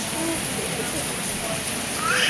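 Rain and hail fall during a hailstorm in Bengaluru, a continuous hiss of drops and pellets hitting the ground. It stays steady and fairly loud throughout, with faint voices underneath.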